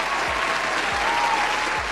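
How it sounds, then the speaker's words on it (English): An audience breaks into sustained applause, a dense, even wash of clapping that lasts the whole short stretch. "Give her a round of applause."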